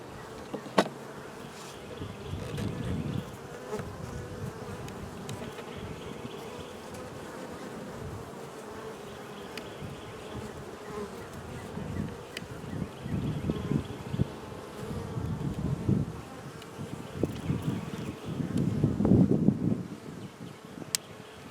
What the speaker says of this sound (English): It was some feral bees from around here.